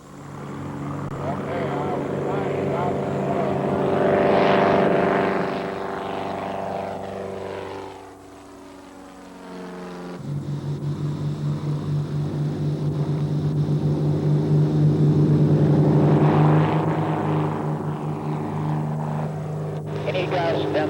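A propeller airplane used for aerobatics and formation flying drones past, a loud engine tone that rises, dips, then swells again with shifting pitch as it passes overhead.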